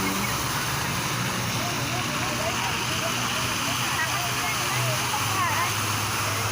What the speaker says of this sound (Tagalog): Punong-puno ng tubig. Ang fountain.